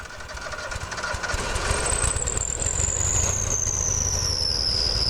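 Small carbureted engine, likely a mower, running steadily after a dose of starting fluid: a loud, continuous rough drone close by, with a high whine that slowly slides lower, and no talking.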